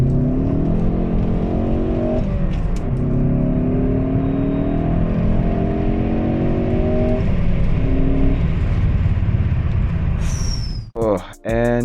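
A Ford Focus ST, 2012-2018 model, out on a test drive after an oil service, its engine droning steadily with rising and falling revs as it accelerates through gears, loud and continuous, ending in a few sharp knocks near the end.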